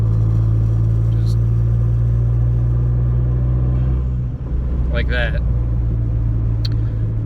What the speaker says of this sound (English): that low RPM kind of just fart sound that these cars can make